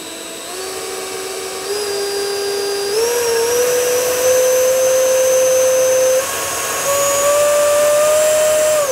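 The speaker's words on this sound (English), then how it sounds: "we are going to rev up this EDF unit big time" The 70mm EDF jet unit of a Freewing Vulcan RC jet spools up in steps from a steady whine to a loud, piercing high-pitched scream. It dips slightly once and then climbs again, close and alone.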